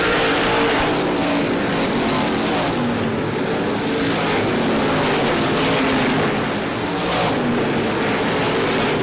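Supermodified race cars roar around an oval track in a steady, dense wash of engine noise, loud and continuous with no talk over it.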